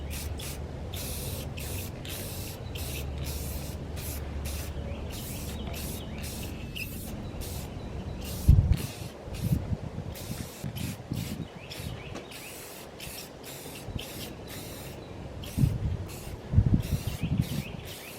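Rattle-can spray paint hisses onto a rifle in a long run of short bursts, each a separate close-up spray. Brief handling clatter and knocks break in midway.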